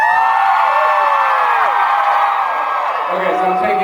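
A convention crowd at a Las Vegas event screaming, whooping and cheering together, loud and sustained with high shrieks, fading slightly near the end.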